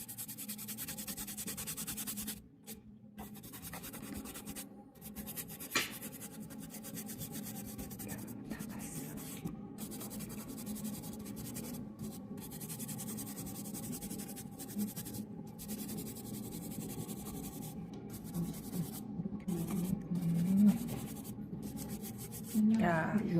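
Continuous soft scratchy rubbing on paper, steady and close, with brief pauses and a few faint voices in the background.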